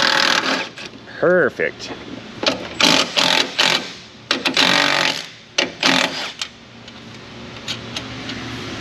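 A medium-size impact gun loosens a bolt on a 2016 Jeep with a 2.4 engine, sounding in several short, loud rattling bursts over about seven seconds, with a person speaking briefly in between.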